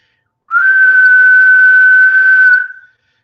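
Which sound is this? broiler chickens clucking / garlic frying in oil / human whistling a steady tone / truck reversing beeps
human whistling a steady tone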